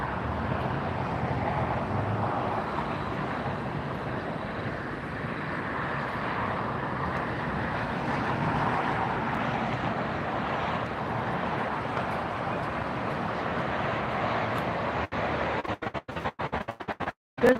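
An Austrian Airlines airliner arrives at LAX on the north side, its engines a steady broad roar that holds for long seconds before wind buffets the microphone near the end.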